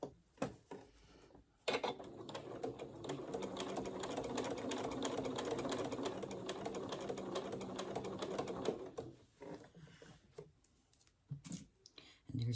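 A home sewing machine stitches steadily close around a fabric edge while sewing a McCall M8256 pattern, a dense mechanical whir running about seven seconds between quieter moments, with a voice talking before and after.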